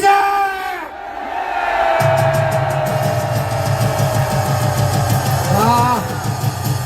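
A crowd at an outdoor political rally roars a sustained collective cheer, loud and continuous for several seconds and mixed with shouting voices, after an amplified voice calls out.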